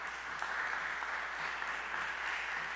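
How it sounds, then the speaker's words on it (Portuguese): An audience at a public-debt citizens' audit launch event applauds, a steady patter of clapping held at a moderate, even level for a few seconds, with no speech over it. "Uma salva de palmas."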